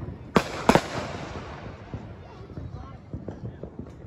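Fourth of July fireworks going off on a residential street, two sharp loud bangs early followed by scattered fainter pops and crackles, with people talking in the background.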